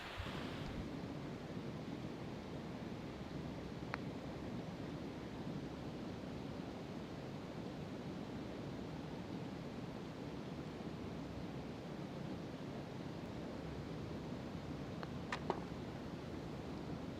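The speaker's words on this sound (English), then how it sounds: "Super cool water feature here on the back side of number 8." Water feature on the back side of the eighth hole at a golf course, a steady broadband wash of falling or running water that fills the whole stretch, with a couple of faint ticks near the end.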